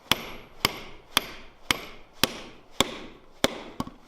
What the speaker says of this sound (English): you want to hit it hard enough that that sinks that little washer in there